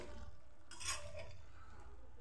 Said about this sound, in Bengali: ঢাকনাটা তুলে দেখে নিচ্ছি কতটুকু হয়েছে